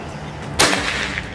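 One sharp, sudden crack of a PCP Predator OD 38 Monolite air rifle firing, a brief snap with a short airy tail, alone against quiet background.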